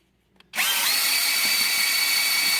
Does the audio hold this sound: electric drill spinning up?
yes